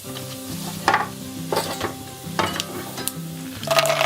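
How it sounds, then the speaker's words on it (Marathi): Mustard seeds and cumin crackle and sizzle in two spoonfuls of hot oil for a crisp pohe chivda, with irregular spitting bursts over a steady frying hiss and no voices. "तेल गरम झाल्यावर त्यात आपण मोरी जिरे टाकून घेऊया मोहरी जिरे"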